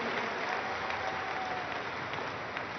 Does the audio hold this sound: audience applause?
yes